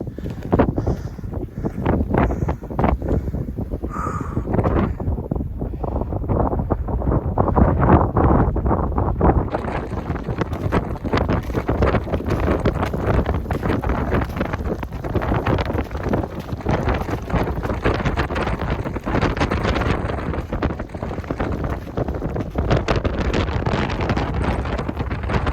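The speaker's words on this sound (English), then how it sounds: "It's extremely windy up here." Strong wind roars across a high, snowy mountain pass in Montana avalanche country, buffeting the microphone with a loud, continuous gusting rush that runs for the whole stretch.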